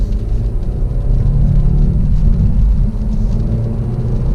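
Engine of a 2019 Hyundai Elantra GT N Line hot hatch during a rev-matched downshift, a steady loud low rumble that holds throughout with slight swells, no talk.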